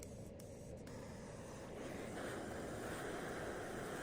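A MAP gas torch roars steadily as it brazes a copper refrigerant line with Stay Bright 8 while installing an R32 split system, a broad, constant rushing hiss with no talk.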